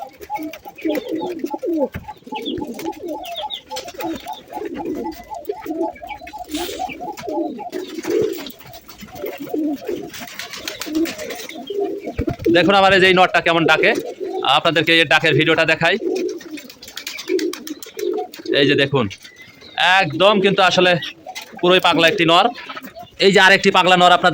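Male pigeons coo repeatedly in low throaty bursts, with someone talking over them for much of the time and louder bird calls near the end.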